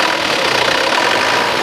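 A loud, steady engine roar from a 2015 Isuzu Panther turbo diesel pickup, close by, with a rough, knocking texture held at high revs throughout.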